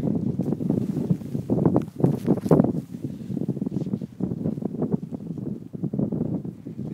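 Strong gusty wind buffets the microphone in uneven surges while a speed flying wing is kited in high wind outdoors.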